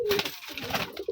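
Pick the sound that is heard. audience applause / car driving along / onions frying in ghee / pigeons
pigeons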